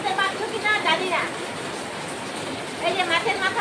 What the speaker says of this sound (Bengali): প্লাস বৃষ্টিও আসতেছে।